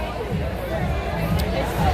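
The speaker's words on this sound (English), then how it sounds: "Beautiful crowd here." Steady crowd chatter fills a busy Manhattan street on a summer Saturday, a continuous babble of many overlapping voices at moderate loudness with no single voice standing out.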